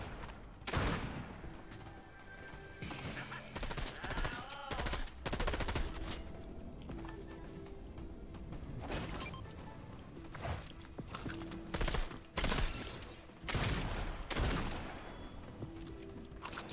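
Rapid bursts of automatic gunfire and single shots ring out in a Fortnite match, coming in clustered volleys with brief gaps, some close and loud, others more distant, alongside footstep-like clatter.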